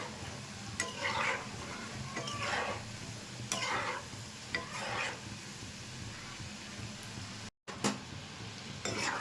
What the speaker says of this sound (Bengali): উল্টে পাল্টে একটু ভেজে নেব